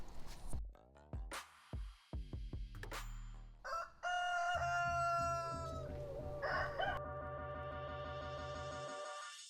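Several chickens crow and squawk around a trailer during home-building work, loud close calls in bursts, then a sustained crowing and clucking chorus under steady background noise.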